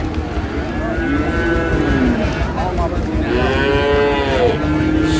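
Sahiwal bulls and calves lowing at a busy cattle market, several drawn-out moos rising and falling over a steady crowd din, loud and close.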